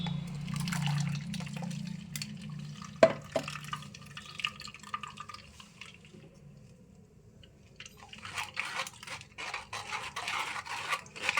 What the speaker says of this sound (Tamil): இதை இப்போ ஃபில்ட்ரு பண்ணி எடுத்துக்கலாம்.